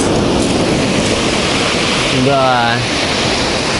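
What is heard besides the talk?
sea waves breaking on the beach in Sochi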